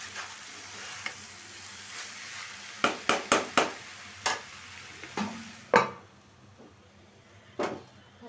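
Potato bhaji frying in a pan, with quiet low sizzling under a series of sharp scraping and clattering stirs of a spatula against the pan, spaced irregularly, no speech.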